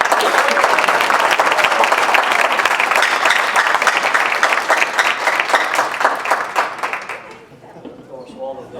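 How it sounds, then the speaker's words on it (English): An indoor audience at a student case competition bursts into sustained, dense applause that slowly thins and fades, with a voice starting to speak as the clapping dies away. "let's give a round of applause to all the students."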